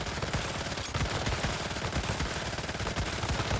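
A gun fires rapidly and continuously in a video game, with dense, loud, closely spaced shots running unbroken through the whole stretch and no voices.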